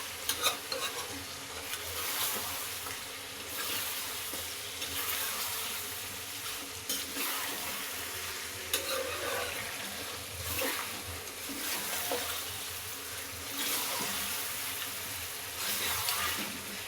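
Goat meat with garlic and ginger paste is stirred in a sizzling pan. Loud continuous frying hiss mixes with rhythmic scraping and stirring strokes, close up and without talk.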